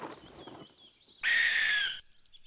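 A barn owl gives a harsh, raspy screech lasting under a second, loud and close, after some faint chirpy bird calls and rustling in the background.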